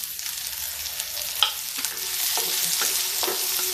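Onion and green chilli frying in an iron kadhai, a steady bright sizzle with scattered stirring scrapes and clinks of the spoon against the pan, close and continuous.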